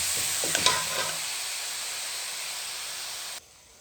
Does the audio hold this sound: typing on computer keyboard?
no